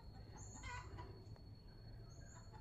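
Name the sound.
chicken clucking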